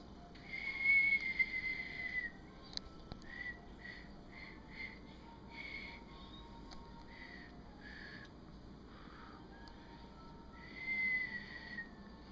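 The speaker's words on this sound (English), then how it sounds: "Can you whistle a tune? Not yet? Okay, one more little whistle." A series of short, high whistled notes, some sustained and some clipped, with pauses between, played alone over a quiet background hum.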